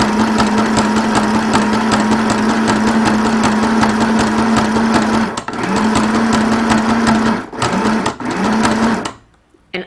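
A Janome Sew Mini sewing machine stitches a straight seam, its steady close motor whir and rapid needle rattle running continuously, pausing briefly twice, then stopping near the end.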